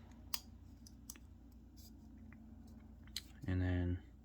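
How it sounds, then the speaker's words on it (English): Spacers being pressed into the handle of a Hogue Deka V2 folding knife during reassembly, with a few small scattered clicks, then a short loud burst of handling noise near the end. "So you just align the spacers, click them in"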